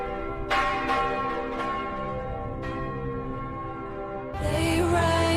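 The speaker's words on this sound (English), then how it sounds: "Inside the city, the bells rang." Church bells ring inside besieged Constantinople in 1453, several distinct strikes with long shimmering tones overlapping into a continuous clang, then a louder, denser burst of ringing near the end.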